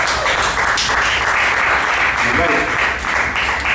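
Audience at the 955 Club comedy show applauds the comedians at the close of the night: a dense, steady wash of clapping that holds loud for the whole stretch, with a voice faintly underneath.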